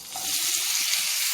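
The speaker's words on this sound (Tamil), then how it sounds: "வெங்காயம் நல்லா வதங்கிக்கட்டும்." Chopped onions fry in about two spoons of hot oil in a pan, giving a loud continuous sizzle and crackle that holds steady throughout, with no talk.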